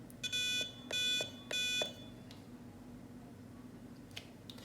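An electronic buzzer module from an Engino E30 STEM robotics kit sounds three short, loud, shrill beeps in quick succession, close up against a quiet room with faint clicks afterward.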